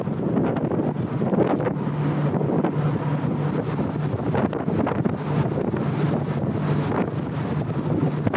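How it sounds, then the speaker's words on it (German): Strong, gusty wind buffets the microphone on the rear outer deck of the FRS Helgoline ferry off Helgoland, a steady loud roar with a low engine hum beneath and no voices. "der Wind, der sich hinten am Außendeck fängt"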